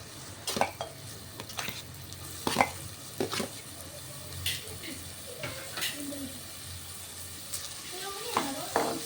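Chopped ginger and garlic cooking in a pan of oil, with intermittent spoon-stirring scrapes and clinks over a low, steady sizzle; a voice is faintly present in the background.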